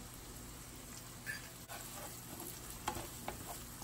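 Chopped shallots with salt sautéing in a pan for a Kerala fish roast, giving a soft, steady sizzle with occasional stirring scrapes and light clicks, fairly faint throughout.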